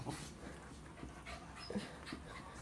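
A dog, excited about getting a bone, pants softly in quick, uneven breaths and lets out a few short whimpers. Nothing else sounds close by.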